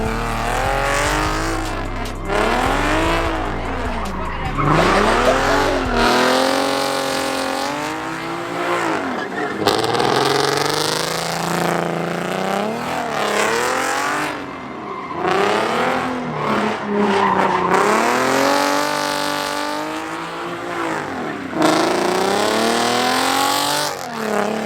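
A car engine in the video game GTA revs and rises repeatedly with sweeping pitch while tires squeal and skid, loud and continuous throughout, with the motor climbing and falling again and again.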